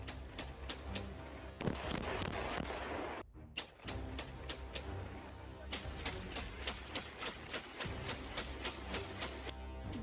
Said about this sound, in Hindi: गोलियां बरसाते इस शख्स को एक बार फिर देखिए।